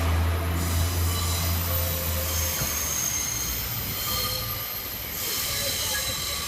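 A Class 144 diesel unit, 144009, rolls over the Lincoln Central level crossings, a close heavy rumble of wheels with squealing flanges and a low engine drone that eases as it passes.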